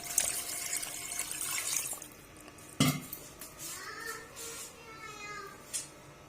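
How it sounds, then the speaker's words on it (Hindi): A glass of water is poured into a cooking pot with meat and spices while making kaddu gosht, giving a splashing pour followed by clinks of a metal utensil against the pot, close and fairly quiet. "1 गिलास पानी ऐड करेंगे।"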